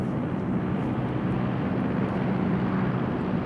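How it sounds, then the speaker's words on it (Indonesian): Airplane flying overhead in the Rules of Survival video game: a continuous loud, broad engine drone and rumble, steady and unbroken throughout, with no talk. "ada suara apa nih? Suara pesawat lagi."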